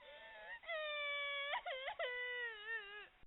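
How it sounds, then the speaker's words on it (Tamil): A newborn baby wails in long, rising and wavering cries, one after another with short breaks, loud and close, with nothing else around it. "ஒரு பச்சிளம் குழந்தை அழுகுரல் கேட்டதுடனே"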